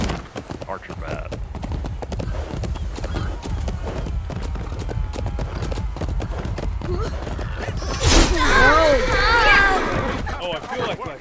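A horse gallops in the medieval combat game Chivalry, with steady, rapid clip-clop hoofbeats throughout and a brief whinny near the end, while people talk over it.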